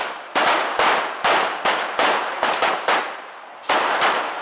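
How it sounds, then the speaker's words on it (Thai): Police cadets firing pistols at an outdoor shooting range, a rapid string of about a dozen loud, sharp shots in quick succession, close by. "แล้วยิงออกไปให้หมด"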